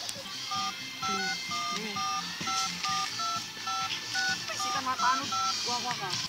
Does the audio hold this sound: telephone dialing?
yes